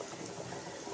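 Rice boiling in a pot on a home stove, a faint, steady bubbling simmer with no voices.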